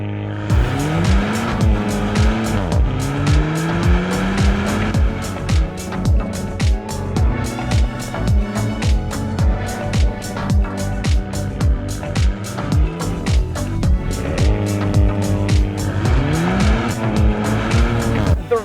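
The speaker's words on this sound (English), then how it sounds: "this is the 2020 Renault Megane RS Trophy." A 2020 Renault Megane RS Trophy, a front-wheel-drive hot hatch, drives hard with a loud engine revving up and down through gear changes, interrupted by sharp crackles and tyre squeal, heard close and continuously without talk.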